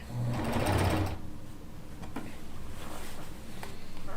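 A sewing machine stitches the last seam of a quilt top, running in a loud, close, steady whir that surges briefly at the start and then settles into an even hum.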